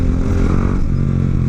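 A motorcycle threads through holiday traffic. Its engine drones loud and close in a steady rumble, with faint rattling, for a brief moment.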